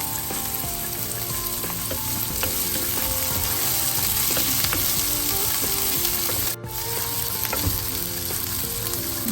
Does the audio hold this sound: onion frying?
yes